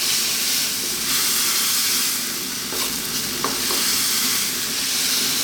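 Pork and vegetables stir-fry with soy and oyster sauce in a hot pan, a loud, continuous sizzle and hiss with scraping stir strokes, close and without talk.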